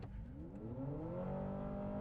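A 2026 Honda CR-V Trailsport Hybrid AWD accelerates hard from a stop, its engine note climbing steadily in pitch with a continuous rising whine heard from inside the cabin.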